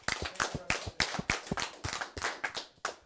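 At a high school live broadcast, a small group gives a candidate another round of applause. The claps come close and distinct in a quick, uneven rhythm of sharp hand strikes.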